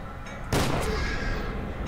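A heavy automatic shotgun blast erupts in the first-person shooter FEAR 2: Project Origin, one loud close burst that rings out and decays over a second or so.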